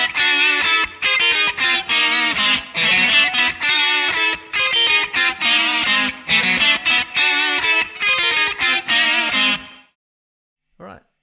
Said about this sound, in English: the first guitar that you hear in the left channel